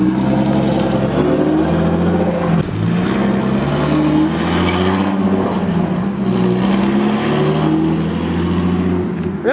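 A straight-piped BMW exhaust drones loudly and steadily while the car drives, a deep rumbling tone that rises and falls gently, close and alone with no talking.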